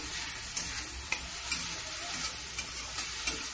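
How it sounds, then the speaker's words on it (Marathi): Tomato masala sizzles steadily as it fries in a pan, with a spoon stirring and scraping at irregular moments over the continuous hiss. Close and moderately loud, with no voices. "फिरून घेऊया। याला मस्त पेस्टचा कलर आलेला पाहिजे, टमाटर बारीक झालेला पाहिजे।"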